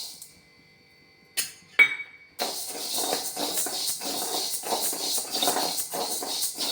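Urad dal tipped into a kadai for dry roasting: after near silence, a couple of sharp clinks, then a steady close rattling hiss of grains on the hot metal.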